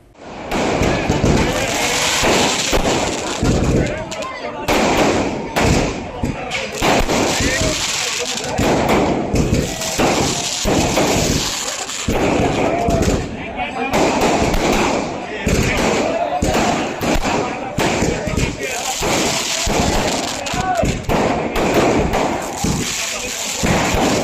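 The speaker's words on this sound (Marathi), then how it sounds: "त्यानंतर फटाक्यांची आतषबाजी झाली" Firecrackers and fireworks go off at a celebration honouring Nandi flags for a hotel anniversary, a dense rapid run of loud bangs and thuds that keeps on without pause, with speech heard over it.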